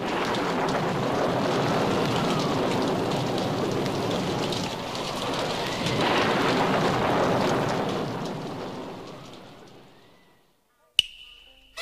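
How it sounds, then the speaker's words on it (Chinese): Rain and strong wind sound effect from a Cantonese opera recording, a dense steady downpour rushing with gusting swells for about ten seconds before fading into near silence and a brief clack. "风太劲，一路上大雨呀"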